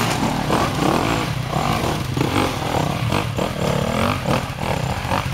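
A motorcycle climbs a rocky stone hill, its engine revving loudly and continuously up close with a rough, straining roar and some clattering.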